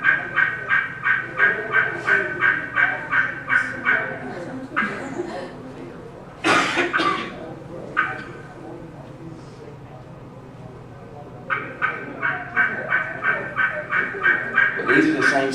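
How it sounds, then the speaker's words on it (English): A wild Osceola turkey hen gives rhythmic runs of yelps, then a burst of sharp, rapid cutting notes, fairly close, with a voice talking briefly in the pause. "that's a yelp. A yelp and cut at the same time"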